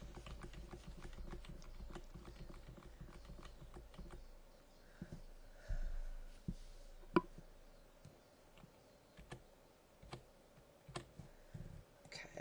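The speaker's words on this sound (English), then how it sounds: "I'm using the arrow keys again" Computer keyboard arrow keys are tapped while working in Bernina embroidery software, giving quiet, scattered clicks at an irregular pace, some single and some in quick pairs.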